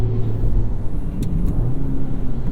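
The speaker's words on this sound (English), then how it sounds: "Active rev matching going on." A 2023 Acura Integra engine revs with active rev matching, a steady mid-pitched rumble with a brief blip in the middle, close and fairly loud without talk.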